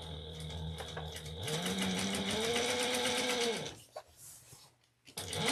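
A sewing machine whirs close by in a steady run of stitching, its motor pitch rising partway through, before it stops and leaves a few brief clicks and a short restart.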